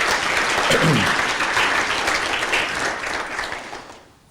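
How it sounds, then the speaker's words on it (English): An audience at a Lynwood school district State of the District event gives a big round of applause, loud, dense clapping that holds steady, then tapers off and dies away. "So let's give it a big round of applause for"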